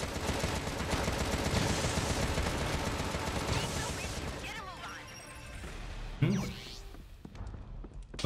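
Enemy gunfire rattles through the Contra: Rogue Corps demo as dense, continuous volleys fill the first few seconds, then thin out into scattered shots and a sharp burst of impact near the end, with game action throughout.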